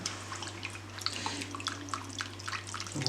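Hot water is added to a truffle cream pasta sauce to melt the truffle butter, producing a soft, close trickle with scattered drips over a steady low kitchen hum, without talk.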